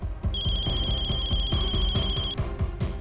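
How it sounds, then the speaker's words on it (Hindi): A telephone rings with a repeating electronic ringtone, steady trilling pulses over a low rhythmic background, fairly loud and close. "फोन उठाओ"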